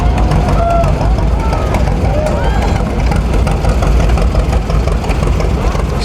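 An antique engine with a straight stack muffler, yellow radiator and closable fan runs steadily at a show, its loud continuous chugging filling the scene while faint voices and a few higher squeaks sit on top.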